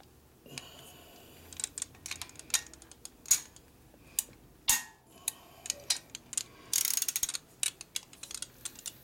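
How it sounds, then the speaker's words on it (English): A torque wrench tightening a bolt on a big-bore Shovelhead engine for a Harley FL bike build, giving sharp metallic clicks and ratcheting ticks in uneven bursts, close up with no talk. "when you're going like that and it goes click, you got full torque"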